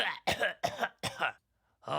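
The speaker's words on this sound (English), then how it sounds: "She just coughed in my little baby face." A woman coughs close by, four harsh bursts in quick succession with a brief pause before a fifth begins.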